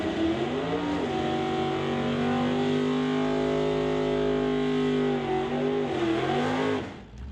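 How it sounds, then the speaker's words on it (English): A 1996 Chevrolet Camaro drag car does a burnout at an NHRA Summit ET bracket race, its engine holding a loud, steady high-rpm roar for about six seconds before the revs drop away at the end. "That's a solid burnout in that 96 Camaro."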